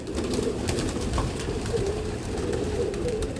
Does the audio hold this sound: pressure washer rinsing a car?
no